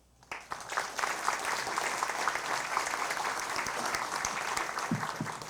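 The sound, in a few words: audience applause for the dean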